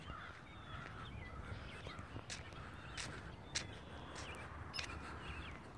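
A bird caws several times at mid distance outdoors in snow, sharp calls scattered over a steady background hiss.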